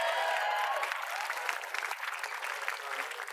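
Studio audience on the Indonesian comedy show Orang Lucu Indonesia applauding the four judges, a burst of loud clapping and cheering that thins into scattered claps over a few seconds.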